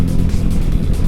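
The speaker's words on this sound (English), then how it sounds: "their stock exhausts are absolutely awful. It sounds like a knitting machine." Triumph motorcycle on its stock exhaust, running with a loud, steady, buzzy low rumble throughout a short stretch, no voices.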